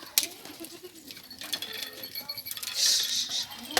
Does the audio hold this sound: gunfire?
no